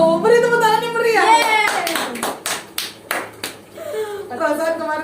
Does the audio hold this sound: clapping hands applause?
yes